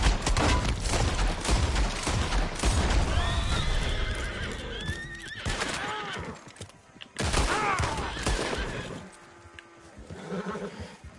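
A horse in the Red Dead Redemption 2 video game whinnies and neighs repeatedly, loud and close, amid bursts of gunfire and clip-clopping hooves during a night-time gunfight.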